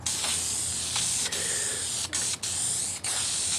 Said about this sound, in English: you want to double clutch your paint sprayer if you can